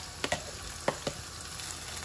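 Chopped sweet tomatoes poured into hot oil for a Rupchanda fish dish, crackling and spitting in a sizzling pan, with several sharp close clinks and stirs over a low frying hiss.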